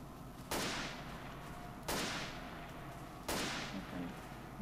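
Three loud single gunshots ring out in a video game bunker run, spaced about a second and a half apart, each with a long fading tail.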